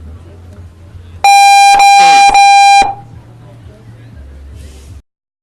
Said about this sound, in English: Runs to the buzzer.